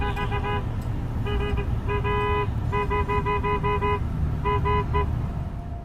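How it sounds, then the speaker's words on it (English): Several car horns honk repeatedly in short bursts over a constant rumble of traffic and engines. "other motorists can be heard honking their horns at him to move his vehicle out of the way"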